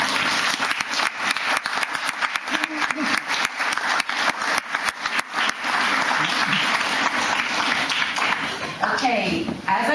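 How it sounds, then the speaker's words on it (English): A round of applause at a fire safety awards ceremony, with irregular individual claps close by over a broader clapping crowd and voices murmuring underneath. "So I think we owe him a round of applause for doing that."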